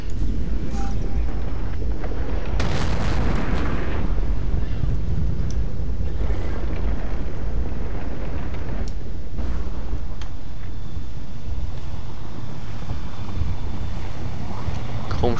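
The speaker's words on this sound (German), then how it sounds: "es kommt schon wieder eine Welle." A water wave rushes in the video game From Dust, a loud, continuous roaring wash of surf-like noise that surges and churns throughout.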